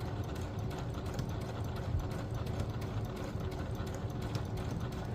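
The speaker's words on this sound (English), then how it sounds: "we're sewing right on that line that we drew earlier, those two lines" Sewing machine running steadily while stitching along a drawn line on a Simplicity 9136 garment pattern, a continuous close motor hum with fast needle rhythm throughout.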